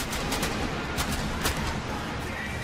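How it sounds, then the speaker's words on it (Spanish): Fireworks going off at WWE WrestleMania 40 in a large stadium: several sharp bursts and crackles layered over a continuous roar of crowd noise. "Ahí están los fuegos artificiales el día de hoy, amigos."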